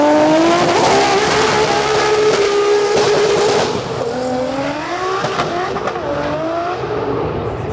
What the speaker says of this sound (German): Mateusz ist dafür bekannt, der wird auf keinen Fall von Gas gehen